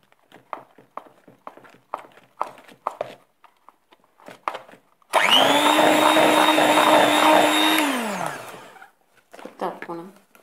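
Electric mixer beating about 250 g of butter with powdered sugar for macaron filling: a steady, loud motor whine starts abruptly, holds for around three seconds, then winds down, with clattering kitchen knocks before and after.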